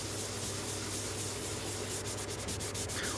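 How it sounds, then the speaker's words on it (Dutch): A sanding sponge or 600-grit paper rubs a scale model's surface to knock off the gloss before airbrushing, making a steady, close, even scratchy hiss that brightens into short strokes near the end. "Dus het eerste dat ik ga doen is met zo'n schuursponsje of met een 600 schuurpapier, is gewoon een keer matteren."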